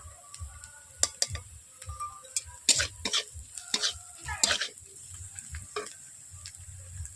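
Onion fries in a pan after turmeric and chili powder are added, a soft sizzle under repeated sharp scrapes and clinks of a spatula stirring against the metal, with no voices.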